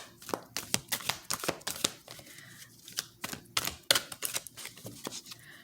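Tarot cards laid down on a table, a quick series of crisp close taps and slaps in irregular bursts, with soft handling rustles between them.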